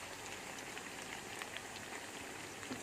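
Food sizzles in a frying pan for Italian parmigiana, a soft, steady crackling hiss with scattered faint pops, heard close and alone without voices.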